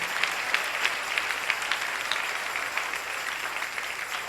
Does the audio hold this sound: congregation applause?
yes